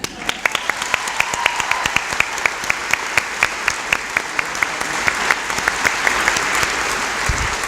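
Crowd at an awards ceremony in a war memorial hall claps in a sustained round, with some sharp louder claps standing out close by over the dense steady applause.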